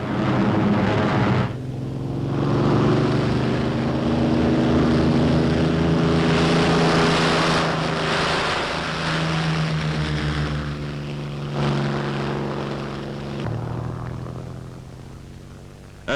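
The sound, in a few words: propeller fighter aircraft engine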